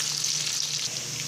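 Whole garam masala fries with onions in hot oil, giving a constant dense sizzling hiss heard close and alone for a brief moment.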